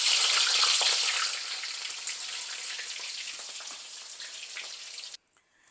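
Eggplant pieces fry in hot oil in a pan, giving a bright, dense sizzle that is loudest at first, then settles to a steady crackle before cutting off abruptly near the end.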